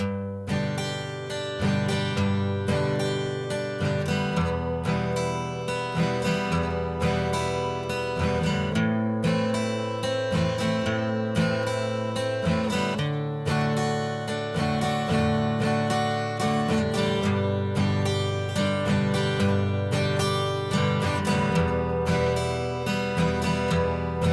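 Acoustic guitar playing a chord progression, alternating strummed chords with picked arpeggios and bass-note bounces, steady and continuous with no voices.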